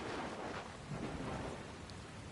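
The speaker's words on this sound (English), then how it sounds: "Looks like there's another storm rolling in." Thunder and heavy steady rain fill a stormy scene in the video game Dragon Quest Builders 2, with a constant loud downpour and low rumbles rolling through, and no voices.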